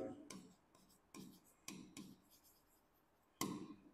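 A pen writes in an accounting ledger with a few short, soft scratching strokes, close and quiet, separated by brief pauses.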